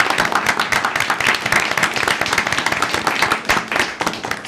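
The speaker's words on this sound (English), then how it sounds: "let's give Jeanette a great round of applause for volunteering" A council meeting audience gives a volunteer a round of applause: dense, close clapping that holds steady for a few seconds.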